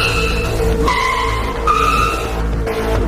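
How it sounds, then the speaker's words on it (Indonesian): A monster truck skids with repeated high tire squeals over a low, steady engine drone, loud and close across about three seconds, with no speech. "Di sini ada juga truk monster."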